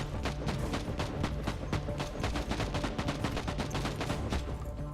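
Grav gun firing in Warhammer 40k Inquisitor Martyr, a rapid, relentless stream of loud sci-fi shots in dense bursts, close and continuous over about five seconds.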